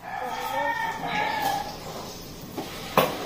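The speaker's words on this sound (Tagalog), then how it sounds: "manok. Gagagito." A chicken calls out in a series of tonal clucks and crowing notes, close by, followed by a couple of short knocks and pops.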